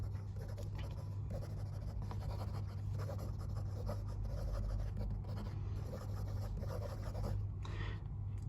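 A Jinhao Tiandao 1935 fountain pen scratches rapidly across paper in quick strokes, a close, continuous soft rasp with faint rhythmic swishes over low background hum.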